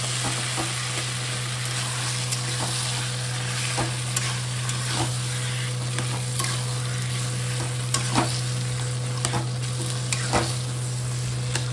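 Taro leaves cooking with a hilsa fish head sizzle steadily in a pan while a spoon stirs them, adding scattered scraping clicks over the constant frying hiss. No one talks.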